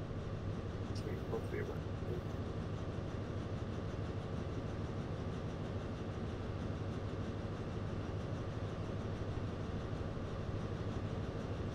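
Steady rumbling clatter of a train in a train simulator game on the Penzance to Plymouth line, a continuous even drone throughout, with a faint tone briefly near the start.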